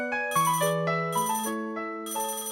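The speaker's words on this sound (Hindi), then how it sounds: "फोन आ रहा है किसी।" A melodic phone ringtone repeats its short phrase several times, clear and fairly loud, with nobody talking over it.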